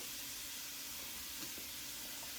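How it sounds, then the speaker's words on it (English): A thick piece of hake steams in a cast-iron pan with a splash of seltzer. A steady hiss and sizzle fills the short stretch with no talking. "I poured a little of my seltzer in there just to help it steam through."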